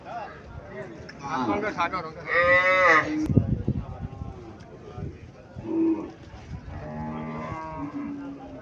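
Cattle at a busy cattle market moo in loud, drawn-out harmonic calls, with two or three bellows rising over steady nearby chatter and crowd noise.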